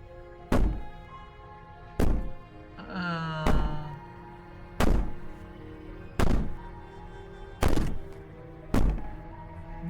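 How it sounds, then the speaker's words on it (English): Heavy banging pounds at a steady pace in the video game Slay the Princess, about eight loud thuds a second or so apart, with a rising wailing tone between the early hits. "Maybe the banging and wailing will stop if you just don't pay attention to it."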